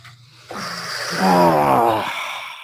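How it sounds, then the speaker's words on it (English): A long, audible breath drawn in and slowly let out, close to the microphone, with no talking. "Take a nice deep breath and stretch."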